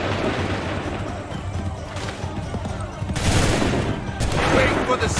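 A massed musket volley on command in Assassin's Creed III, with dense crackling gunfire that swells into loud bursts around the middle and end, mixed with battlefield din and voices.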